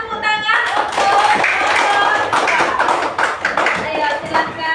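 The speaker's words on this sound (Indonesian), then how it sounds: "berikan tepuk tangan untuk kelompok" Students in a classroom give a short burst of applause for a student group, a dense round of clapping with voices mixed in, close and loud.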